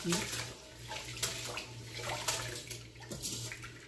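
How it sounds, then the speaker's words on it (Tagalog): Rice being washed by hand in water, close sloshing and swirling with running-water splashes continuing throughout, with a steady low hum in the background. "Hugasan natin ng maigi kasi yung rice dito ay kailangan siyang hugasan ng maigi"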